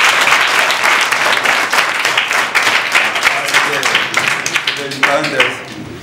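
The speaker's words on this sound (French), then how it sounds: "je vous demande d'applaudir encore l'association Guen" An audience applauds for a local association at a reading club installation, steady dense clapping close and loud throughout, tapering slightly toward the end, with a voice briefly audible under it.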